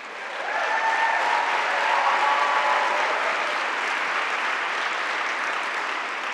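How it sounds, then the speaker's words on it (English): An audience at a lecture hall event breaks into sustained applause that swells quickly and holds as a dense, even wash of clapping for several seconds. "Please give them another round of applause."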